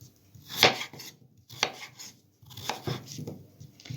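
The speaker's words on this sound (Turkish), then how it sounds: "Öncelikli olarak şu patatesimi doğramak istiyorum." Sharp knife strokes chopping potatoes on a cutting board, a handful of irregular thuds close by with short pauses between them.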